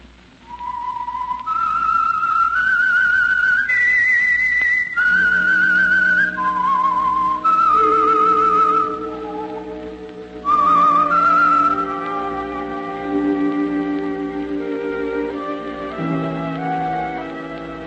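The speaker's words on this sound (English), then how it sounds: "That whistle is your signal for the Signal Oil program, The Whistler." A lone whistler carries a slow, eerie melodic tune, the theme of the old-time radio drama The Whistler, clear and close, with sustained notes that slide between pitches before orchestral music swells in.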